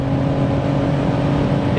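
A tuned 730 bhp BMW M140i at high speed, a steady, loud engine drone with road and wind roar heard from inside the cabin.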